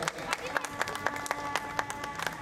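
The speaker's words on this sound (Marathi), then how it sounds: "सगळ्यांनी जोरदार टाळ्या वाजवाव्यात" A crowd claps during the lamp-lighting ceremony at a school sports festival, with sharp, fairly regular hand claps under a steady tone and background murmur.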